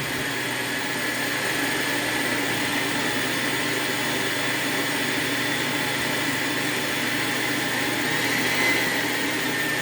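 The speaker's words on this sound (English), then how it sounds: "I've already put it in the blender. I'm gonna blend it." A kitchen blender runs continuously at a steady, loud whir for the whole stretch, with no pauses or change in pitch.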